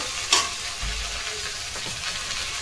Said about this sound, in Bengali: এদিকে ঢেঁড়স ভাজা করছি